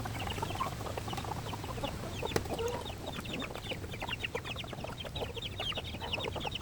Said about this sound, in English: leftovers are going to the chickens